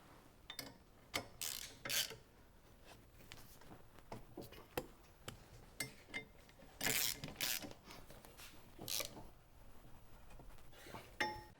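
Ratchet tightening the brake adjustment on a Scag V-Ride 2 mower: bursts of rapid metallic clicking and ratcheting, close up, with pauses and clinks of tools between strokes, no talk.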